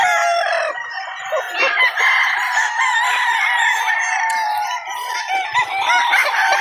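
Gamecock battle stags at a game farm crow and cluck together, several birds overlapping in loud, continuous calls close by, with no talk over them.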